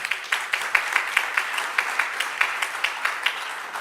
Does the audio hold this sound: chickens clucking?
no